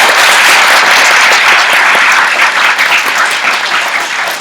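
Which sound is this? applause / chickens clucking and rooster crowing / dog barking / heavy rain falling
applause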